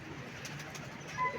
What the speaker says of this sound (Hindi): ये हमारा लाल बादशाह कबूतर बैठ रहा है